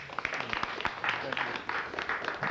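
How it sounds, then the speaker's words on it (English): Small audience at an awards event claps for a crew member, a modest round of distinct hand claps with uneven rhythm, fairly faint and thin, a few individual claps standing out. "he deserves a round of applause for all his hard work"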